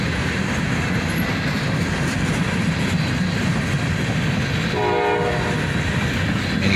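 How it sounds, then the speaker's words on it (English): A freight locomotive's horn sounds at Needmore Yard, where an SD42 leads an SD40-3 rebuild; a brief steady horn tone rises over a constant loud rumble of rolling equipment, with no talk. "And you hear that horn?"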